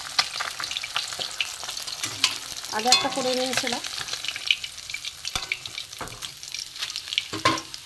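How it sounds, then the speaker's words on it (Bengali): Pomfret fish frying one at a time in oil in a small wok, a constant close sizzle and crackle with occasional utensil clinks, while a person speaks briefly over it. "ছোট কড়া, আমি আস্তে আস্তে একটা করেই ভাজবো"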